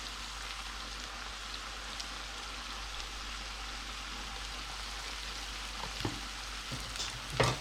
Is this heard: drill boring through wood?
no